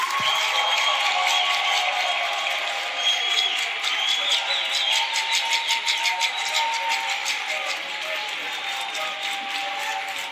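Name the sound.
audience applause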